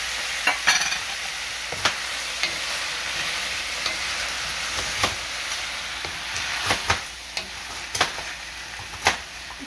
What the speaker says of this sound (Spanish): Los vegetales se sofríen como por unos 5 minutos